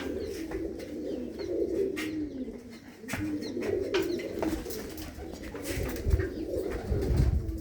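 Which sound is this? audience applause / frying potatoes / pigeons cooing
pigeons cooing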